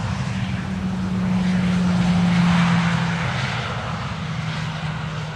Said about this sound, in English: Another one of KLM's 737s.